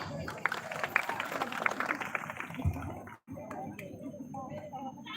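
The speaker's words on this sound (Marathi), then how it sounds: "नक्की जोरदार टाळ्या" A crowd claps in a burst of applause at a Shiv Jayanti festival speech competition, loud and dense at first, then thinning out, with voices murmuring through it.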